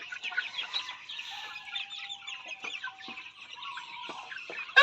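Chickens and chicks on a farm clucking and cheeping continuously, a busy overlapping flock sound, close and moderately loud with no talking.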